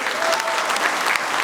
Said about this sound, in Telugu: ఒక్కసారి గట్టిగా చప్పట్లు కొట్టాలండి అందరూ.